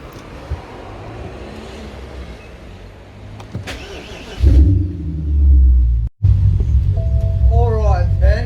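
A BMW E63 650i V8 with its exhaust bypass valves open starts up and settles into a loud, deep idle rumble after a stretch of wind and distant traffic. A voice speaks briefly near the end.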